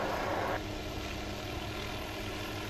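Steady helicopter rotor and engine drone in a military video game, a continuous broadband roar with a brief louder burst at the start, no voices over it.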